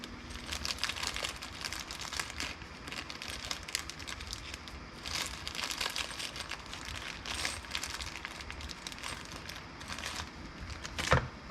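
A small plastic hardware bag for a bass boat mount crinkles and crackles close by in irregular bursts, with a sharper rustle near the end.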